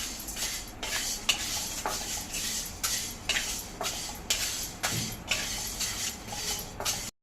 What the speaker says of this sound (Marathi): हे खडे मसाले आपले भाजताय